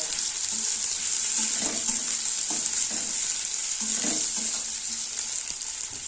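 Chopped onions with garlic and green chillies frying in a pan give a loud, constant sizzle, broken by repeated scraping stirs and light knocks of a spatula.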